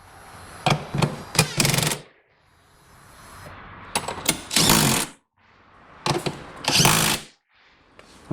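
Power tool bolting up the transmission on a Mach 1 Mustang during a TR-3160 shifter install, three loud close bursts of rattling impact-style driving separated by short pauses.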